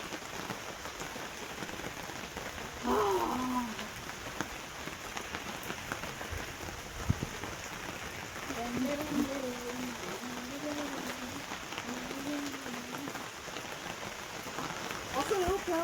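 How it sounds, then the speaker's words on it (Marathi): Steady rain patters densely on surfaces nearby, a continuous wash of drops, while a voice speaks intermittently over it. "अरे चलो पाऊस आया रे."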